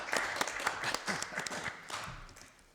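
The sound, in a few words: committee members clapping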